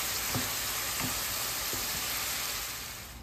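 Boiled lotus root drops into a pan of spice masala with fried tomato, setting off a steady, quiet sizzle broken by a few soft stirring knocks before fading slightly at the end.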